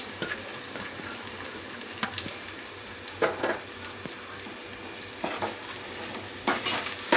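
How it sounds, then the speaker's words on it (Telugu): Onions and green chilies, with a little cumin, fry in a pan with a soft steady sizzle, broken by several scraping stirs at irregular intervals. "ఇది ఆనియన్ పచ్చి స్మెల్ పోయేంత వరకు మంచి బ్రౌన్ కలర్ వచ్చేంత వరకు మనం దీన్ని వేపుకోవాలి"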